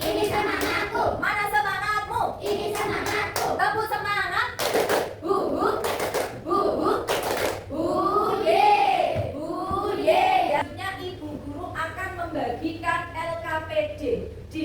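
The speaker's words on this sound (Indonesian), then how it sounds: "Tepuk tangan untuk Mbak Zara" Rhythmic group clapping from a classroom of students doing a spirit clap, several sharp bursts of hands striking together in time, mixed with a teacher's voice and chanting over the whole stretch.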